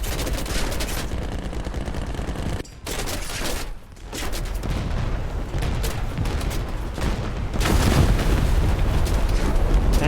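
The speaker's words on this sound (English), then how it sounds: "A bomb literally landed right underneath me and I somehow survived." A bomb bursts close by amid a sustained wartime battle in Sicily, with loud booms and crackling gunfire rolling together, brief near-silent gaps around the blasts, then the din surging even louder toward the end.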